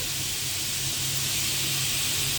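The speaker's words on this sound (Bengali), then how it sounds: "দিয়ে এবার আলুগুলোকে ভালো করে ভেজে নেব" Potatoes frying in hot oil with a dried red chilli, giving a steady loud sizzling hiss that runs without a break and cuts off at the end.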